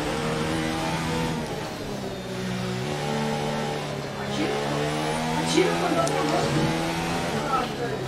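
Formula 1 car engine in a racing video game, a steady mid-pitched drone with rising gear-shift sweeps that climbs and drops, running continuously under chatter from players talking throughout.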